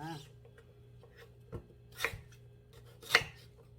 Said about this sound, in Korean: 먹기 좋은 크기로 이렇게 썰어주면 되겠죠